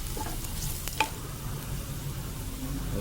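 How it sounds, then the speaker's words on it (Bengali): Chopped onions sizzling in hot oil with black cumin, a steady close crackle with a few sharp stirring clicks against the pan, no voices. "এর মধ্যে আমি এবার দিয়ে দেবো পেঁয়াজ, কুচি কুচি করে"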